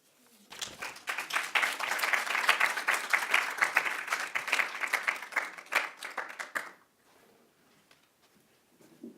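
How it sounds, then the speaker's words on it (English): Audience applause after a poetry reading at an arts event, a dense burst of clapping that builds quickly, holds steady for several seconds, then cuts off, leaving faint room noise. "One more round of applause for Sarah, for Shayla, for Michael,"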